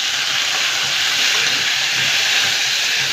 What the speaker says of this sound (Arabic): هنا بقى وهي بتتشوح هنزل بقى بحته تومه كده تتشوح معاك